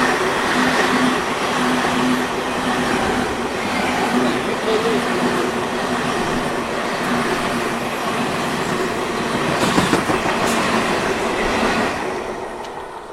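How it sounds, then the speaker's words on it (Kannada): A train pulling into Chikkabanavara railway station in the evening, with a continuous loud rumble and rattle of the coaches, a short burst of squeal or clatter near the end, then the noise easing off. "ನಮ್ಮ ಟ್ರೈನ್ ಸದ್ಯಕ್ಕೆ ತಲುಪಿದೆ ಚಿಕ್ಕಬಾಣಾವರ ರೈಲ್ವೆ ಸ್ಟೇಷನ್ಗೆ"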